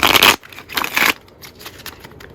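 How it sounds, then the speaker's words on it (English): Playing cards being shuffled by hand in a quiet room: two loud riffling bursts, then softer scattered card clicks and slides, close up with no talking. "I've been shuffling cards like this since I was 5."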